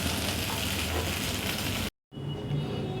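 Sabudana khichdi with added salt is stirred in a hot pan, giving a close, constant sizzle and hiss that cuts out briefly, then resumes more softly.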